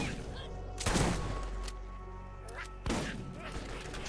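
Gunfire in the game Borderlands, two heavy blasts about two seconds apart over a rumbling background, moderately loud with game noise between shots.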